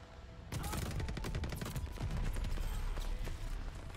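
Rapid gunfire from a Type 100 submachine gun in Call of Duty: Vanguard, a dense, steady stream of shots during a close gunfight, loud and continuous after a brief quiet start.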